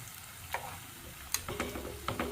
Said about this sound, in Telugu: చూడండి ఎంత త్వరగా ఫ్రై అవుతున్నాయో.